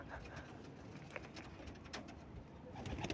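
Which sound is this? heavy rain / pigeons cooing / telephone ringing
pigeons cooing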